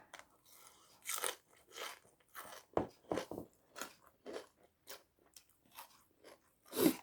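Crunchy som tam, Thai papaya salad, being eaten up close: repeated sharp crunching bites and chewing in an uneven rhythm, loud and alone with no talking.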